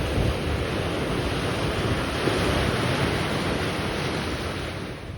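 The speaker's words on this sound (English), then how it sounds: "the sight of the waves crashing against these miniature rocks was" Waves crash against small rocks along the Caspian coast of Dagestan, a loud, continuous roaring wash mixed with wind buffeting the microphone, slowly easing toward the end, with no voices.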